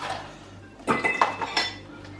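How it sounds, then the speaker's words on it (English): Ice cubes dropped into a glass for a Negroni: a brief burst of bright clinks and clatter from close by, lasting about a second in an otherwise quiet moment. "And now we'll add the ice."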